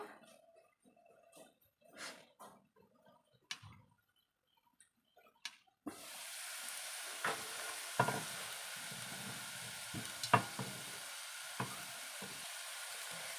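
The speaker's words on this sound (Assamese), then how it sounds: "সেনেকৈ ঢাকনিখন মাৰি অলপ অলপ জুই দি ভাজি থাকিব লাগিব" Small potatoes fry in a covered pan over low heat with a steady soft sizzle that starts abruptly partway through, broken by occasional clinks and stirring; quiet scrapes and handling come before it.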